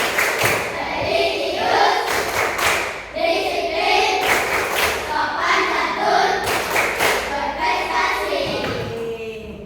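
Children clap in rhythm during a tepuk clapping game in a classroom lesson, bursts of hand claps and thumps in repeated patterns while their voices chant along in unison.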